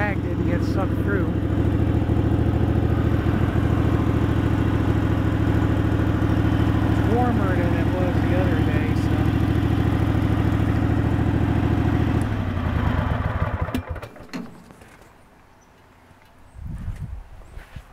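Two GT6000 machines run together as a steady, loud, droning mechanical hum. It holds even for about twelve seconds, then cuts off, leaving only scattered quieter knocks and rustles.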